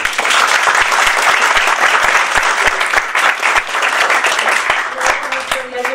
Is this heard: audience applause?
yes